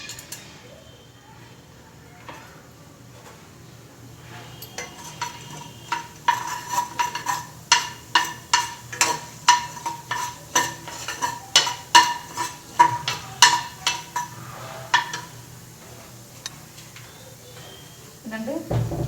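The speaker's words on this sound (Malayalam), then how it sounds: "ഇതേ എണ്ണയിലേക്ക് നമുക്ക് കുറച്ച് ഉഴുന്ന് ഇട്ട് കൊടുക്കാം." Urad dal dropped into hot oil in a pan for tomato chutney, with a steady sizzle and a run of sharp clicks and crackles as the lentils fry, plus stirring scrapes and low talk under the cooking.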